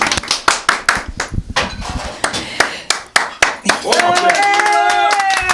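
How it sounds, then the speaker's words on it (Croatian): An audience claps in a loud, steady rhythmic beat for nearly four seconds, then the claps give way to shouting and cheering voices. "Spasimo je aplauzom odmah"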